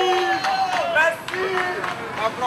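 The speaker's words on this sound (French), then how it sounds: "Au passage des soldats, quelques acclamations fusent." A crowd on a street in Abidjan cheers as a column of soldiers passes. Scattered shouts and whoops rise over a continuous babble of voices, with people talking close by throughout.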